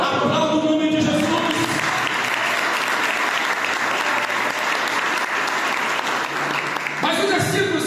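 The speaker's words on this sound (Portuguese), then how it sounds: "Aplauda o nome de Jesus" A church congregation applauds during a worship service, loud close sustained clapping with crowd voices and a speaking voice heard at the start and end.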